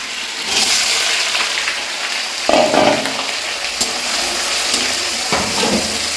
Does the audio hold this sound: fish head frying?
yes